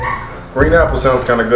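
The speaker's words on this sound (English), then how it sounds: "that's my dog. He's still a damn big ass puppy down there crying," A large puppy whimpers and yips somewhere in the background of a room while someone talks clearly in the foreground, the dog's cries partly buried under his voice.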